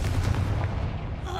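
A Confringo blasting curse explodes in Hogwarts Legacy, a short loud burst of booming blasts up close amid the clamour of a spell-filled fight.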